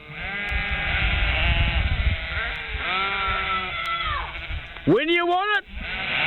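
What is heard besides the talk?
sheep bleating sound effect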